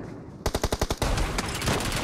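Automatic gunfire in PUBG Mobile: a rapid burst of about nine sharp, loud shots in quick rhythm, followed by more scattered shots and noisy clatter, with no talking.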